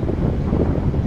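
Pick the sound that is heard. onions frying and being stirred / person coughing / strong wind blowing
strong wind blowing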